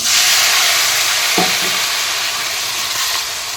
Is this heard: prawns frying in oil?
yes